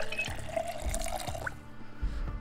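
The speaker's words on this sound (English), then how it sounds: "Let's fill the water bottle." Tap water running into a water bottle in Project Zomboid, a soft steady trickle with faint low knocks and a rising gurgle as the bottle fills, quiet and close, no talk.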